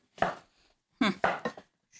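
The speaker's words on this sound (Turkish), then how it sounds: "Elmaları çok minik küpler halinde doğramamız gerekiyor." Apples being chopped into very small cubes with a knife on a board for an apple cake: a single sharp cut, then a quick run of three or four close, crisp knife strikes, near and clear in a quiet kitchen.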